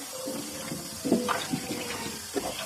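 Tomatoes being rinsed in water, a steady wash of running and splashing water with a few louder sloshes, close and fairly even throughout, with no talking.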